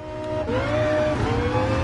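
Vision Gran Turismo concept car in GT Sport: a close, loud engine revs, drops briefly as if on a gear change, then climbs again in a steady, harmonic-rich whine.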